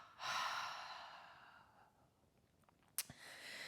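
A long, audible breath out during a yoga breathing exercise, a soft airy exhale that fades over about two seconds, followed by a sharp, short second puff of breath near the end.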